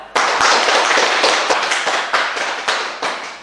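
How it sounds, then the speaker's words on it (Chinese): An audience gives loud, sustained applause to welcome two company managers at a village meeting, dense rapid clapping close by that swells at the start and fades slightly toward the end. "下面呢，大家用热烈掌声欢迎二位经理的到来。"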